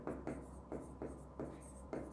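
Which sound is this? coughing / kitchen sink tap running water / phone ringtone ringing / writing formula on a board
writing formula on a board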